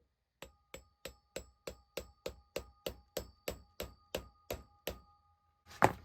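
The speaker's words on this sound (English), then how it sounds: "We'll just tap it right down with a soft blow hammer." A soft blow hammer taps a bearing down onto an electric motor shaft resting on a wood block, fourteen evenly spaced sharp knocks followed by a heavier final thud.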